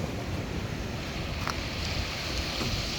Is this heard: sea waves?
yes